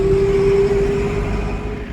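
A lorry idles close by on a farm field while waiting to unload sewage sludge, a steady low engine rumble with a faint tonal hum, loud and unbroken for the whole stretch.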